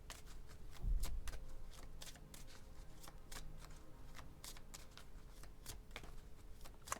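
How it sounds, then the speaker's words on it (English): Tarot cards are shuffled up close in a quiet room, a soft, rapid flutter of riffling cards with repeated crisp snaps, continuous throughout. "I think I shuffle quite weird."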